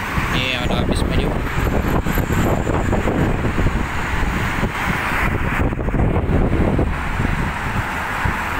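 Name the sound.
medium-sized bus passing on the road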